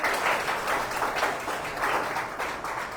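A congregation at a Sunday evening prayer service applauds to welcome a visiting pastor, many hands clapping in a steady, rhythmic wave that swells and dips slightly, loud and close with no talk over it.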